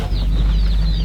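Newly arrived baby chicks peep continuously in the back of a vehicle, a dense, loud chorus of high chirps from many birds packed close together, with no talk.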